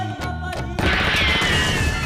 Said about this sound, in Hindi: ये तो डोर बेल में रिंगटोन है गोलियों की आवाज का